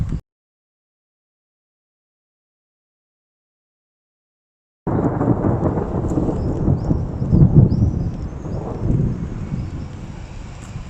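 Thunderstorm rumble with wind on a coast-to-forest outing, a brief burst at the start, then silence, then a loud sustained low roar of thunder and gusting wind lasting several seconds.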